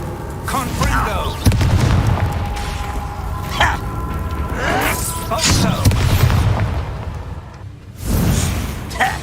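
The Confringo blasting spell in Hogwarts Legacy goes off in deep booming explosions with whooshing bursts, loud and repeated over a rumbling game soundscape, with voice noises mixed in.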